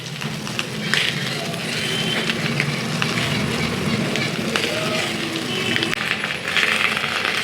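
Hilsa fish with sauce and butter sizzles on a hot sizzler plate, a loud, close, continuous crackle and hiss with small pops throughout and no voice over it.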